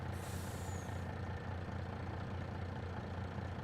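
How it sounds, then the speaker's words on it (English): An old Mack truck in Farming Simulator 25 lets out a sharp air-brake hiss at the start over a steady, rumbling idle that continues close and loud afterward, with no voices. "I guess I'll hop in the old Mack truck"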